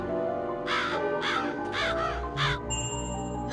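Crows in Psychonauts give four harsh caws in a steady sequence, close and clear over a soft, constant game ambience with a faint chime near the end.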